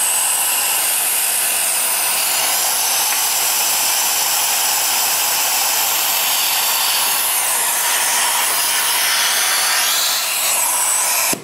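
Continuous loud rushing hiss of compressed air driving a venturi coolant vacuum tool on a VW Mk5 GTI cooling system, steady and close throughout before cutting off at the end.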